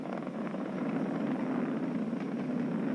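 A Falcon 9 rocket climbing during a Crew Dragon launch, engines throttled down, gives a steady, distant low roar that rumbles evenly throughout with no distinct bursts and no talking.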